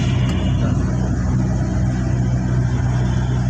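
A car engine pulling at a steady, loud drone during a driving lesson, heard close from inside the cabin with no talk over it.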